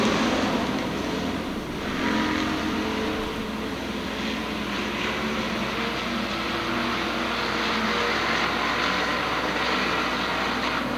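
Hobby-class dirt track race cars roaring around the oval at Minot, a steady dense wash of engine noise at a distance with no talk over it.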